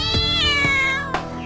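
A cat meows loudly and close, several drawn-out, strongly harmonic calls following one another with no talking over them.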